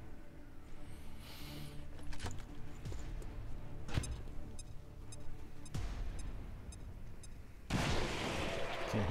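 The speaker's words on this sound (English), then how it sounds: "Grenade out." Gunfire and a grenade blast in the tactical game XCOM 2 Long War 2: several sharp cracks and booms scattered over the span, ending in a louder, sustained explosive rumble, with no talking.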